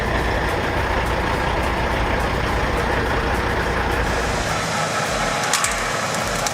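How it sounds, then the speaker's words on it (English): An HYM650 forestry milling machine grinds down a tree stump with a loud, steady, rumbling roar that holds unbroken throughout, and no voices are heard. "This HYM650 is making short work of that stump."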